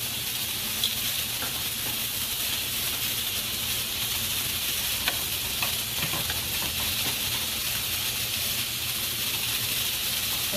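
Sausage fries in a pan with a steady, broad sizzle and hiss, punctuated by occasional faint pops and crackles, close and continuous throughout.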